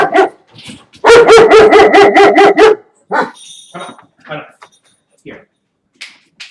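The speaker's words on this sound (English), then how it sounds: "Sorry about the dogs." Several dogs bark in a loud, rapid burst of about eight close barks, followed by scattered quieter yips and whimpers with a person talking in between.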